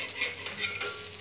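Dosa batter sizzles steadily on a plain iron tava, a close, continuous hiss of frying with no voices.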